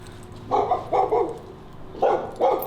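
A dog barks five times in two quick pairs and a final single, close and loud, with no talk.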